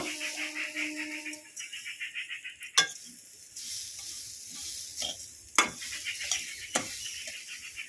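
Toasted coconut and sugar are stirred in a pan for a pumpkin puli pitha filling, with a soft steady scrape and light sizzle and a few sharp clinks of a utensil against the pan, close, with no talk.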